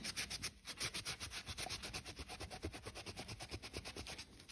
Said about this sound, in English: I'm gonna wipe down the mug